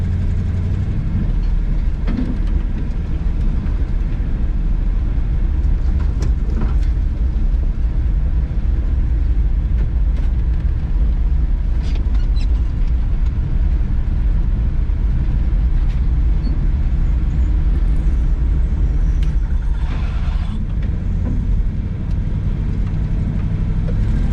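An old log truck hauling timber rumbles along the road, its heavy engine a loud, steady low drone with road noise from the cab for the whole stretch, no talk.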